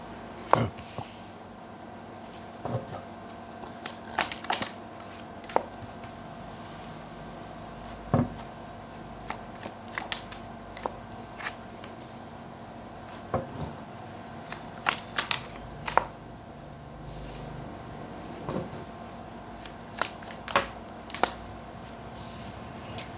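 Tarot cards being shuffled and drawn by hand, with crisp riffling and snapping card sounds in irregular bursts throughout, fairly close and quiet, with no talking.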